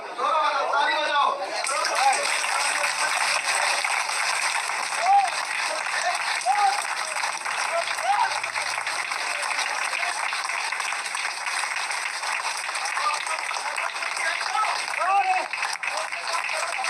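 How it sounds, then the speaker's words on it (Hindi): An audience at a live talk claps hands together, a sustained dense wash of applause lasting throughout, with a voice speaking over it at moments. "दोनों हाथ ऊपर करो, दोनों हाथ, ताली बजाओ"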